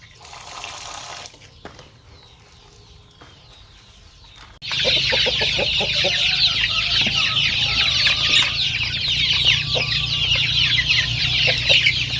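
Young chicks of a poultry flock peck and cluck busily at feed mixed with vitamin powder, a dense chorus of high chirps and clucks that starts abruptly and stays loud and steady, with occasional pecking taps.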